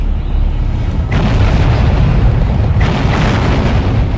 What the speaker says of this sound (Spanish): ordenó que los cañones lanzasen todo su poder sobre los muros de Pavía.